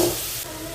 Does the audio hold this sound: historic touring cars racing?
no